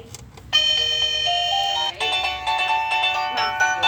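An electronic doorbell chime at a respite home plays a multi-note melody, close and fairly loud, holding tones for about three and a half seconds with nobody talking.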